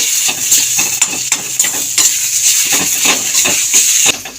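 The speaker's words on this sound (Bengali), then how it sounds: "কিছুক্ষণ ধরে একটু নাড়াচাড়া দিয়ে নামিয়ে নেব" Cauliflower bharta being stirred as it fries in a pan, a loud close sizzle with a steady rhythm of spatula scrapes against the metal, repeating every half second or so.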